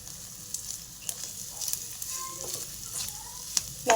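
Coconut pieces fry for Kerala kalathappam, giving a soft, steady sizzle with occasional light scraping from stirring, fairly close and gentle.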